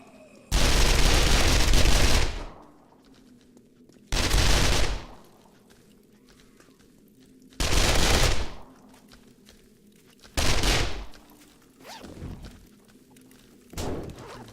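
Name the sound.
gunfire in video game 7 Days to Die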